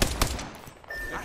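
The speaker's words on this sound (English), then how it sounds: "Some guys are shooting at me." Gunfire in Apex Legends, a quick cluster of sharp shots at the start followed by a short high whine, loud and up close, without speech.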